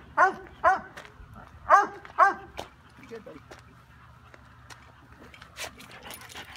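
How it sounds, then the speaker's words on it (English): Two dogs meet, a boxer and German shorthaired pointer mix among them, with four quick whimpering yips near the start followed by softer snuffles and movement, while people talk quietly nearby. "Here's Amos meeting medium, medium tester dog"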